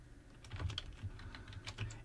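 A computer keyboard being typed on to enter a file name in an image editor: a short, quiet burst of quick, irregular key clicks, close by and with no talking.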